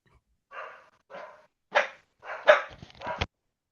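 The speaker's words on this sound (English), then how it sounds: "The dogs would like to introduce themselves, Mario." Several dogs bark in short separate bursts, about five, growing louder and more clustered toward the end, with no talk over them.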